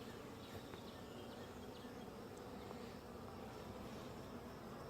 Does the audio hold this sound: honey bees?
yes